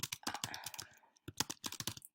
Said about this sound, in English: So you can just type something up